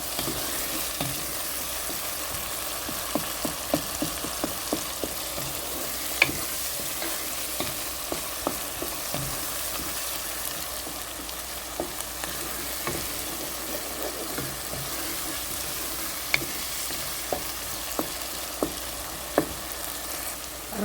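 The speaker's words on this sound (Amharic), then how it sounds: "እሱን ጨምርና በደንብ አድርጌ አብሬ ከቲማቲም ከሽንኩርቱ ጋር ጠበስ አደርጋለሁ" Garlic and ginger sizzle with tomato and onion in a pan, a steady frying hiss broken by frequent soft clicks of a spoon stirring, close and continuous with no talking.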